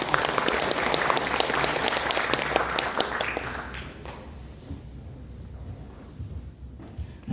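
An audience applauds at a social cooperative's opening ceremony, dense clapping for about four seconds that then thins out and fades into quiet room noise.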